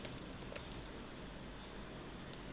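Keys typed on a computer keyboard while entering a compile command in a terminal, with soft, steady clicking over a constant low hum and no talking.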